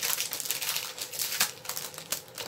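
A wrapped pack of thick craft paper being pulled open by hand, with continuous close crinkling and crackling of the wrapping and a few sharper rustling bursts, loud and without talk.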